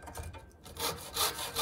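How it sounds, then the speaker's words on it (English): Hacksaw cutting a small piece of wood for a scale model shed, several quick rasping back-and-forth strokes at close range, with no talking. "Hacksaw."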